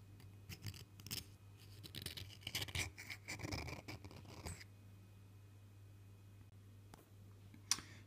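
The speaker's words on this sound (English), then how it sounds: "just cleaning the top up with a razor blade" A razor blade scrapes the top face of a Bosch CP1 high-pressure diesel fuel pump that is being resealed, giving faint, irregular scratchy strokes in short bursts over a quiet background hum.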